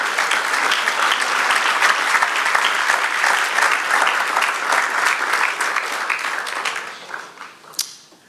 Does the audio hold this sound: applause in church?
yes